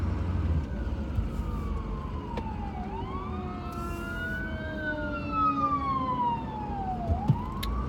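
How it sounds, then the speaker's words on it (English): An ambulance or fire truck siren wails past with rising and falling sweeps, its pitch swooping as it nears and moves away, over steady traffic rumble. "Sorry, ambulance or fire truck."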